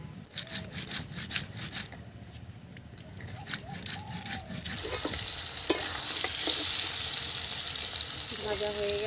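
Whole spices fry in a pan for a vegetarian potato and pumpkin curry, with scraping stirs and clatters early on giving way to a steady close sizzle.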